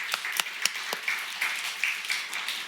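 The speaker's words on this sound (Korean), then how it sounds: "우리 세 사람에게 우리 감사의 박수." A church congregation claps in thanks during a Christmas worship service, a burst of scattered hand claps from a room full of people, moderately loud and irregular, with no one speaking over it.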